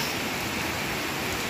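Steady rain falls in a dense, even hiss without breaks or other sounds, neither close nor distant, for a moment or two.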